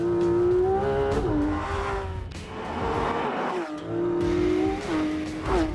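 Four-litre naturally aspirated flat-six sports car engine with 500 horsepower and a 9,000 rpm redline, revving hard in loud rising and falling sweeps, close and continuous with no voices.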